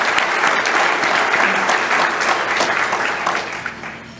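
An audience applauds steadily at a LIFE 2019 event, a dense wash of clapping that holds level for about four seconds before easing slightly at the end.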